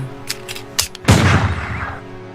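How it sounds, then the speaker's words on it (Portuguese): Gunshots fired at point-blank range as a sound effect: a few sharp cracks at first, then a heavy, loud blast that rings out and decays. "Foram dados tiros a queima-roupa, perfurando o corpo do bandoleiro"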